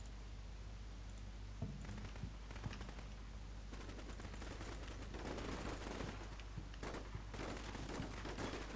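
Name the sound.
gunfire in the video game Combat Mission: Shock Force 2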